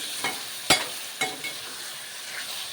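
Goat tripe curry is stirred in a pan with a utensil, giving a few scraping, clacking strokes over a soft, constant sizzle of frying.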